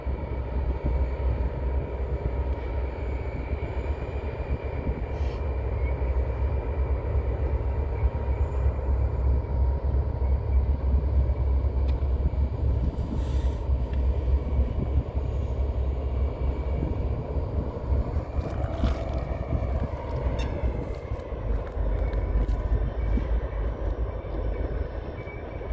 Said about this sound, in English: Whole lot of train for them little engines, a lot of weight.